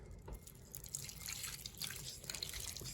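Water splashes and drips as more is tossed into the water pan of a new smoker cooking a roast, a close, steady patter of liquid with no talking.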